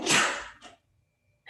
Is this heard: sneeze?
yes